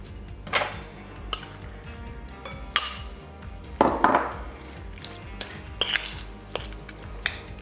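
A utensil loosens cheese in a bowl for a carrot, ham and cheese roll, making close, irregular metallic clinks and scrapes against the dish, with pauses between strokes.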